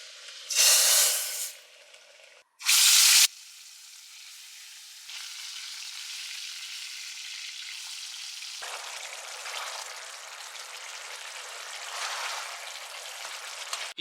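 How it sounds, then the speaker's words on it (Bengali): Garlic and Kashmiri red chili powder tempering in hot oil for dal, with two loud bursts of sizzling at the start followed by a steady, softer hiss and crackle that continues to the end, with no talking. "এবার একটা ছক দিচ্ছি রসুন আর কাশ্মীরি"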